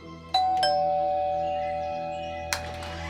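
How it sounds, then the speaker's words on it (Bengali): A doorbell rings as a sound effect in a Bengali suspense audio story: two quick ding-dong chime tones with a long ringing decay, then a third struck tone near the end, clear and alone without talk. "এমন সময় কলিং বেলটা বেজে উঠল"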